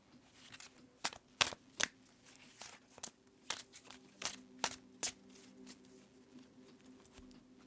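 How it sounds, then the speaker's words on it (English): A tarot card deck being shuffled, with a run of crisp riffling snaps and flutters at an uneven rhythm, close and fairly quiet against a low background hum. "I'm going to go ahead and give the deck a good shuffle for you."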